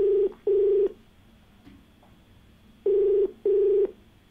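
Telephone dialing before a TV call-in show caller picks up: two pairs of steady electronic tones, each a short beep followed by a longer one, separated by a quiet pause over a faint background hiss.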